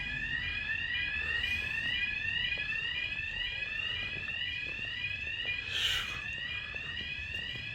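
An alarm rings continuously on a deserted, abandoned shopping street, a steady repeating electronic warble that keeps going without pause over faint outdoor background noise.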